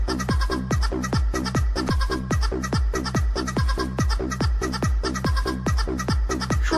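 A stream alert plays a looping tune over and over. The clucking, rooster-like rhythm repeats steadily, loud and continuous, with no other sound underneath.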